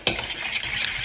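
A spoon stirs oat bran cake batter laced with sugar-free blackcurrant squash in a bowl, giving a close, continuous scraping and sloshing that lasts about a second with no talking.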